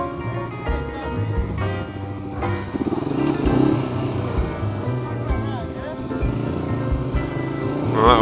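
Motorcycle engine throttling during wheelie practice, a steady motor drone rising and falling in revs, with voices talking over it throughout.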